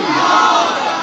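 A crowd at an Islamic religious speech roars back in unison to a Nara-e-Takbeer slogan call. It is a dense, loud burst of massed voices that holds steady for about a second.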